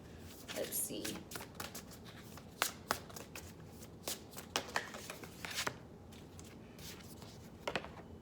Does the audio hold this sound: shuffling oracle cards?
yes